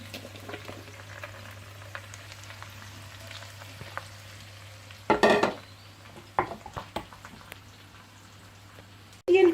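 Soft frying sizzle under a low hum gives way to sharp clatters as vegetables drop into browned onion in a pot for celery soup, followed by stirring scrapes.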